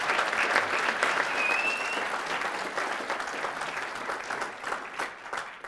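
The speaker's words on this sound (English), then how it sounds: "we have a round of applause for them" Sustained applause from an audience at a university discussion event, a dense wash of many hands clapping that stays loud and steady throughout before easing slightly toward the end.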